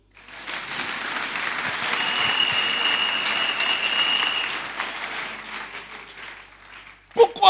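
A church congregation breaks into sustained applause that swells, holds steady for several seconds, then fades out before a voice cuts in at the end.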